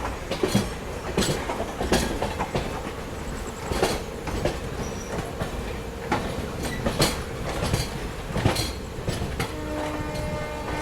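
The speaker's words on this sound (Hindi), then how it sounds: "और ये कोई तो भी ट्रेन है जो कि आई गेस यार्ड में जा रही है, बिकॉज पैसेंजर्स है नहीं, बट पैरेलल चल रही है हमारे साथ।" A train on a parallel track beside a moving superfast express sleeper train in India rolls past loudly, with rhythmic clickety-clack wheel impacts, rumbling carriages and occasional screeches throughout.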